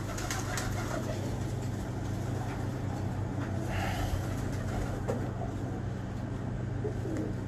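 A pigeon coos in a loft, soft repeated low calls close by over a steady background hum with a few faint clicks, no talking.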